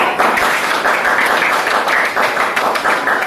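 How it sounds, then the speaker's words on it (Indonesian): A room of teachers at an academic coaching session claps together, a loud, steady round of applause with crisp individual claps that holds evenly from start to finish. "tepuk tangan untuk"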